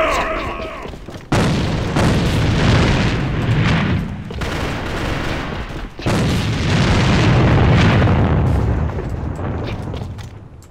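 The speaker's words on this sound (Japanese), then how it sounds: "手榴弾を使うぞ。" A hand grenade goes off in the online shooter AVA, a loud booming blast that cuts in abruptly and rumbles on with sustained noise, followed by a second heavy burst amid ongoing gunfire.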